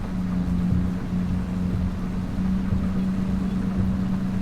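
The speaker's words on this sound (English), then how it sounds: "the tractor is struggling a bit right now because we have loosened up soil underneath the tires and it's struggling for grip" A farm tractor labors on loosened soil as its tires struggle for grip, giving a steady, droning engine hum with a constant low tone and rough broadband noise throughout, close and unbroken.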